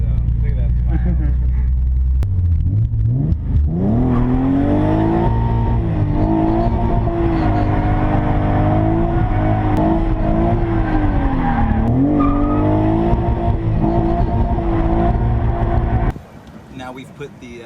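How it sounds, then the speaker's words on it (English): A stock, naturally aspirated Z32 Nissan 300ZX spins right-hand donuts, its engine revving loud and steady while the tires squeal and skid continuously, then the sound cuts off abruptly near the end. "We're just gonna try to get him on some right-hand donuts now."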